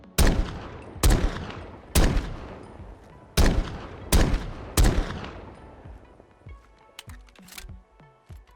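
Six loud, sharp pistol shots from a .50 GS Desert Eagle in a Fallout 4 mod ring out at a steady, slightly uneven pace, each with a long decaying tail, followed by quieter mechanical clicks of handling or reloading.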